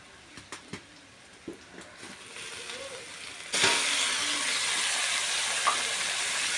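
Dried fish (shutki) goes into a pan with chillies and whole cumin. A few clicks and taps come first, then a sudden loud, steady frying hiss takes over and holds.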